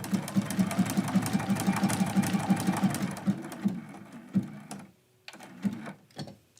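Sewing machine zigzag stitching quilt block pieces, a rapid rhythmic run of needle thumps for about three seconds, then slowing into a few separate stitches and handling clicks with pauses between.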